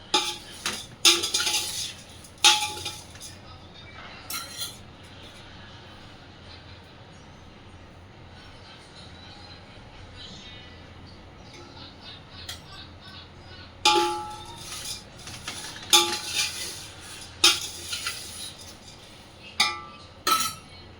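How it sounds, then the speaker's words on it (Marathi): A metal spoon scrapes and clinks against a large pot while poha flakes are dry-roasted for chivda, sharp clattering bursts at the start and again near the end, separated by a long quieter stretch of low rustling stirring. "पोहे भाजून घेते चांगले खरपूस."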